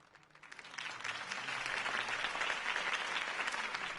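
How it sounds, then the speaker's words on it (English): Applause after a campaign speech for Harvey Dent, where a large crowd claps steadily. The sound starts low, builds within the first second and stays as a dense, even wash of many hands, heard from some distance. "If only Mr. Wayne, my campaign's largest backer, could have heard that applause"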